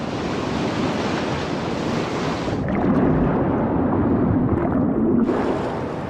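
Rough ocean surf roars loud and continuous, with wind buffeting the microphone and a heavier surge of breaking water through the middle.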